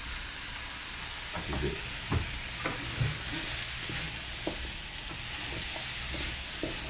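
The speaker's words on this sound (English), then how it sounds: "Now we're going to chuck in the ackee, people." Fresh ackee tossed into a hot pan on an outdoor cook in Portland, Jamaica, sizzling steadily while a spoon scrapes and stirs in irregular clacks, close by, with a short spoken remark.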